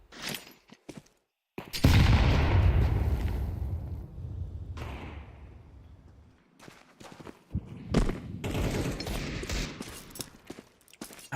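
Pistol gunfire in Counter-Strike 2 during a pistol round: scattered sharp shots and short bursts with loud, crowded stretches of firing and footsteps, broken by a brief silence and quieter gaps, heard from the player's position.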